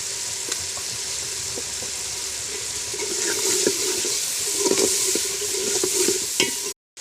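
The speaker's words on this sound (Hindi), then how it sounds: "अदरक लहसुन और प्याज को अच्छी तरह भून लेने के बाद अब हम इसके अंदर" Dried red chillies frying in a pan with ginger, garlic and onion for a chana dal curry, a steady sizzle with repeated spoon scrapes that grows louder midway before cutting off abruptly.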